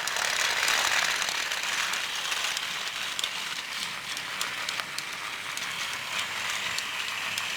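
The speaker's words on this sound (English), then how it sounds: "with the Tomy Jet Engine powering up behind him" A Tomy Jet Engine toy train powers along a plastic track, a steady whirring motor hum with a faint rattle of small clicks, continuous and close with no talking.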